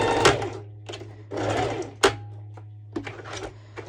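A sewing machine stitches back and forth in short motor runs separated by brief pauses and a sharp clack, loud and close, with a steady low hum underneath.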